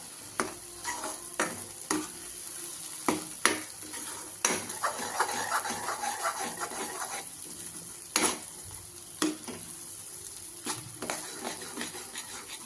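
Kadai paneer masala stirred in oil in a pan, a spatula scraping and knocking against the metal in irregular strokes over a low sizzle, close and fairly clear.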